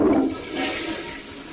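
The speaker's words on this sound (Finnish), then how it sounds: "Ja vessanpönttö." A toilet flushes inside a video game, a short loud rush of water that gradually tapers off, with no one talking over it.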